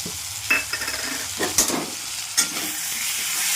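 Fried potato in a pan as poppy seed paste goes in for aloo posto: a continuous low sizzle broken by spatula scrapes and a few sharp metallic taps, with no one talking.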